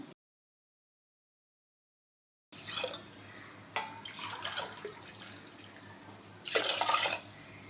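Water pours steadily into a pot of rice after a brief silence, with a louder gush near the end; quiet and close, no talking.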